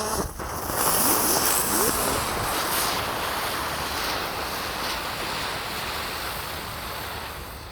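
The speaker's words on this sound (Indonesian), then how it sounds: "Di sini ada gangsingan atau roda gila. Ini kita nyalakan satu pak sekaligus guys." A whole pack of spinning firework ground spinners burns at once, giving a loud, steady, roaring hiss that fills the entire stretch without letting up, with a sharp crackle near the start.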